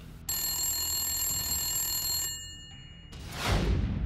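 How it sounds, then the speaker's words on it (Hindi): A telephone bell rings in one sustained, bright metallic burst of about two seconds, standing for a government official's phone ringing even at night; a brief broadband whoosh follows, with no talking. "रात में भी घनघना उठते हैं नौकरशाहों के फोन।"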